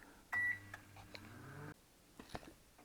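A Kogan 28L stainless steel convection microwave oven sounds its temperature buzzer during an oven heat test: one short, loud, steady beep near the start, then a low fan hum runs on and cuts out.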